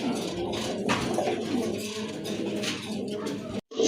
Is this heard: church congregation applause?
no